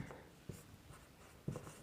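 Chalk or marker writing on a board during a chemistry lesson, faint short strokes and taps at close range, two slightly firmer knocks among them.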